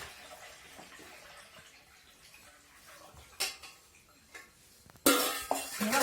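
Jaggery water is poured through a sieve into another pot. Faint trickling and pouring is broken by a few clinks of metal, then a louder rush of liquid near the end.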